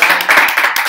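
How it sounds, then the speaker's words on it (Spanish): A short burst of loud, close clapping from a few pairs of hands, brisk and uneven. "Un aplauso, la verdad"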